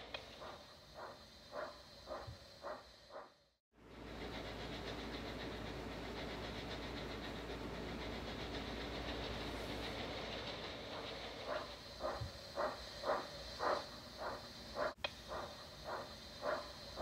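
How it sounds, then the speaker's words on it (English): A toy-style engine train from Thomas and Friends runs along rails with a steady rumble and rhythmic clickety-clack, fading briefly and then returning with repeated clacks. "I need to get moving my train now."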